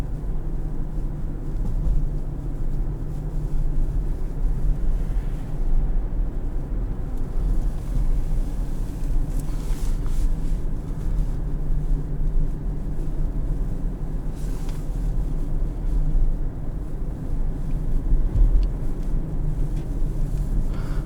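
A 2022 Hyundai Tucson Hybrid SEL glides along under electric power in sport mode, leaving a low, steady cabin rumble of road and tire noise with no engine note and no talking.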